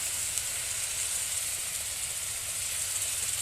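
Spices and ground masala sizzling in hot oil in a pan while a cabbage curry is cooked, a steady hiss that holds evenly from start to finish with no talking.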